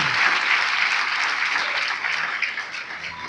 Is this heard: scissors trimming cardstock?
no